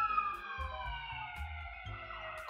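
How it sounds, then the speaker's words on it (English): An ambulance siren wails steadily as it passes, its pitch sliding downward while traffic rumbles low beneath it. "we got a damn ambulance going by here"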